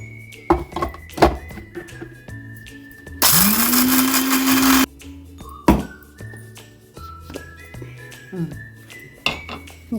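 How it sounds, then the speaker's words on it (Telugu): A kitchen mixer grinder whirs loudly for a couple of seconds blending cucumber chutney, framed by thuds and clinks of the jar, lid and utensils before and after. "ఇప్పుడు ఇలా ఒకసారి మిక్సీ చేసినాక"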